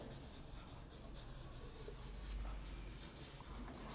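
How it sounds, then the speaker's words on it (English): Faint, steady writing strokes on a board for a homework correction in a classroom, a continuous scratchy rubbing with no talk over it. "Let me write it here."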